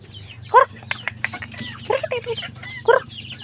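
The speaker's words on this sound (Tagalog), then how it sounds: "sa aking kulungan ng manok Yan" Chickens cluck and squawk inside a backyard coop, three louder close calls standing out over a steady murmur of softer clucking from the flock.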